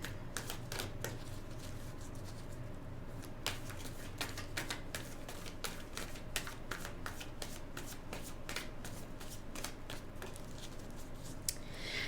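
Tarot cards are shuffled over and over at close range, producing rapid riffling bursts and crisp flicks in an uneven rhythm, fairly quiet, with no talking.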